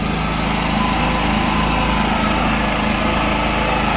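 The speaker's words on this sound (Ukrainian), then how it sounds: "І ось так працює генератор." A petrol generator runs steadily and loudly nearby, a constant droning engine hum with a rough mechanical buzz and no voices.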